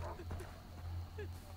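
Dog barks faintly in Far Cry 3, a few short yips set back in the game scene over a steady low hum.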